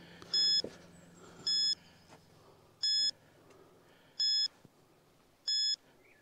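A ghost-hunting energy scanner gives five evenly spaced electronic beeps, each about a third of a second long, close and clear over a faint ambient background, while being swept around an area of Mitford Castle.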